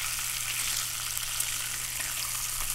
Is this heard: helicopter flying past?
no